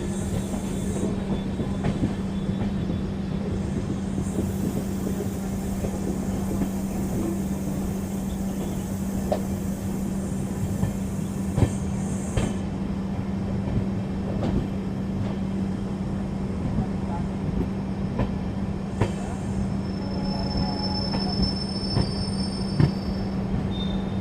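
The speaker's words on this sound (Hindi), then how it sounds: "हमारी ट्रेन डोईवाला क्रॉस कर रही है" The Ramnagar Dehradun Express rolls through Doiwala with a steady low rumble, squealing wheels and clicks over rail joints, heard up close from on board for the whole stretch.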